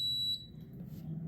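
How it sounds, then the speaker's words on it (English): A single sharp, high electronic beep sounds briefly from a pressure cooker air fryer as it starts, then fades into a quiet low hum. "It beeps like that."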